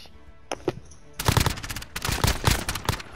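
Video game gunfire starts with a few isolated shots, then breaks into dense, loud automatic bursts that crackle steadily for the rest of the moment, with no talking.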